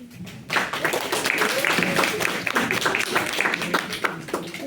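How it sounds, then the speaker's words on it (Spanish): Students in a pharmacology practical class applaud a classmate, a short burst of scattered clapping from a small group mixed with some voices. "Damos una aplauso al compañero."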